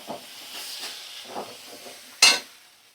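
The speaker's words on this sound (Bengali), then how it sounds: "এবার সমস্ত মশলা আমি ভালো করে 2 মিনিট একটু কষিয়ে নেব।" Spices with mustard and poppy seed paste fry in a pan, soft sizzling and scraping stirs in uneven bursts with a sharper hiss near the end, quiet and close, no talk.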